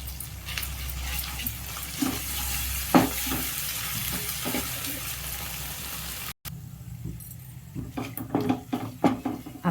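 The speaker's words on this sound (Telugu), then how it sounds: "ఈ అల్లం వెల్లుల్లి పేస్ట్ కొంచెం బాగా దోరగా పచ్చి వాసన పోయే వరకు వేగనిచ్చేస్తే చాలా బాగుంటుంది అన్నమాట" Ginger garlic paste frying in a pan, a steady close sizzle with occasional stirring scrapes and clinks, briefly cut off before the sizzling resumes alone.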